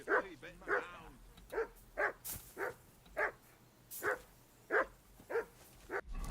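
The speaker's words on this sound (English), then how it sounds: "Shut up, dog." A dog barks repeatedly in the video game Kingdom Come, the Kingdom Ex: Cuman Revolution mod, giving about a dozen short, evenly spaced woofs and yips at moderate distance over a quiet outdoor background.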